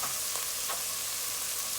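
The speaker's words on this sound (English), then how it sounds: "I'm gonna add my spinach now." Malabar spinach going into a pot of cooking ingredients, with a steady broadband sizzle and frying hiss throughout and a couple of faint stirring clicks, with no talking.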